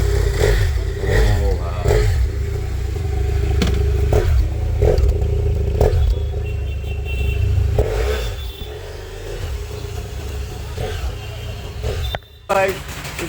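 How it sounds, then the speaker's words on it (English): BMW F800 GS motorcycle exhaust idling and blipping with a deep, steady rumble, close and fairly loud, with clattering engine noise and a short sharp break near the end. "Just here the sound of the exhaust guys. This is the sound of F800 GS"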